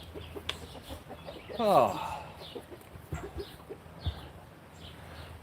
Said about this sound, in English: I'll go catch that rooster.